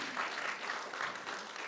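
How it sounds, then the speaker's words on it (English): A short, faint burst of audience applause follows a panel discussion on women in tattooing, dense crowd clapping heard from a distance for under two seconds. "Let's give a round of applause to the panelists."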